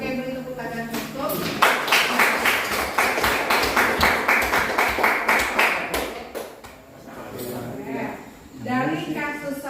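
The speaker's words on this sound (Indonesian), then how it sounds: "beri tepuk tangan untuk" A class claps together in a quick, rhythmic burst lasting several seconds, close and lively, with voices talking before and after.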